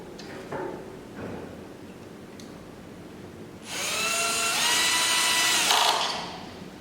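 Power drill driving screws on SPF 12KW inverter boards: a few soft taps and handling sounds, then a loud, steady whirring run of about two seconds that winds down at the end.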